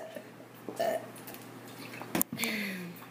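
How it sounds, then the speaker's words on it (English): A single person's burp, heard close under a murmur of room noise, with short gulping, liquid-sounding bursts and a longer belch near the end. "I don't have to burp anymore."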